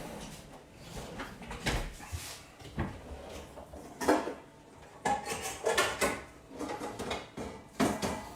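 A large salad bowl being taken out of a kitchen cupboard brings a series of close clattering knocks and clinks of dishes and cutlery, irregular and moderately loud, with no talk.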